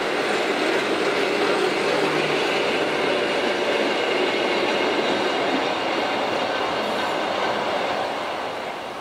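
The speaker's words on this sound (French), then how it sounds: "Un tramway ancien descendant vers la gare de Berne" Old tram heading down toward Bern station, a steady loud rolling rumble with dense wheel-on-rail clatter throughout, easing slightly at the end.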